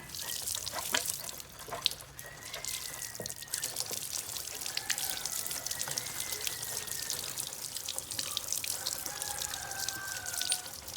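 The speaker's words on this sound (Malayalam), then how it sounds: "നമ്മൾ പൈപ്പിൽ വെള്ളം അടിച്ചിട്ട് ജസ്റ്റ് ആ ഗ്രീസൊക്കെ ഒന്ന് വെള്ളം കൊണ്ട് കളയണം" A hose sprays water over a bike chain and sprocket to rinse off grease, making a steady, close hiss of spray and splatter that runs unbroken with no talking.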